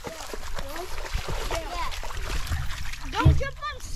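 Splashing and sloshing through shallow muddy water at a ranch, repeated uneven splashes close by with a louder splash near the end, heard under people talking.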